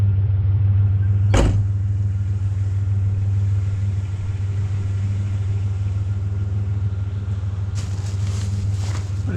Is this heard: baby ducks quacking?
no